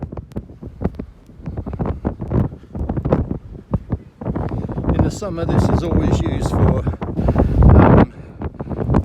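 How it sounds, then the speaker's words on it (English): Strong gusts from Storm Ciara buffet the microphone on an open hilltop in a UK city, a loud, roaring wind rumble that swells and stays heavy, with someone talking over it. "let's see how windy it gets here."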